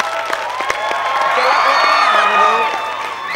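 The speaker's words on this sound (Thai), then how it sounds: "ขอเสียงปรบมือให้แกที" A Thai television studio audience claps and cheers, a warm swell of applause with whoops and shouts that rises and then eases off.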